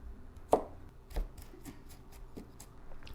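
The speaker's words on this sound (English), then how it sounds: "And then in the opposite direction of all those, chop across. Green onion." A knife chopping green onion on a cutting board, cutting across strips: several quiet, separate blade taps spread over a few seconds, one sharper strike near the start, heard alone with no talking.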